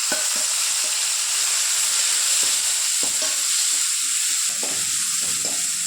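Tomatoes frying in hot oil in a pan with mustard seeds and vegetables, a steady close sizzle running throughout with scattered soft clicks of stirring.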